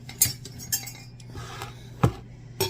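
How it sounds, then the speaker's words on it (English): A metal utensil clinks against a pot or bowl while potato, ham and green bean casserole is stirred, with a few sharp scrapes and taps spaced across the moment over a steady low hum. "we're going to get that stirred in"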